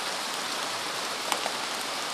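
Heavy rain pours steadily in a dense, even hiss of drops on surfaces, with a couple of faint taps standing out briefly.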